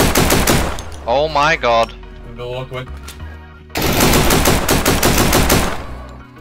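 Gunfire in an online shooter video game, rapid loud bursts of shots close by at the start, then again after a pause, with excited voices talking in between.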